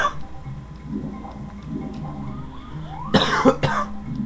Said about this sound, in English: Awkward cough.